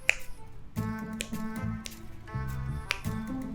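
Repeated crisp finger snaps, several sharp clicks spaced irregularly over a few seconds, close by, alongside a steady background melody.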